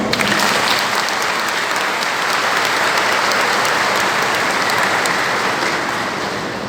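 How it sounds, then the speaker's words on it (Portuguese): A church congregation applauds warmly during a confirmation service, a dense, steady wash of many hands clapping that fills the room and fades slightly at the end. "uma calorosa salva de palmas"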